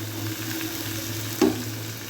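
Raw chicken pieces for methi chicken frying in a pan: a steady, soft sizzle with a single brief clatter partway through, no voices.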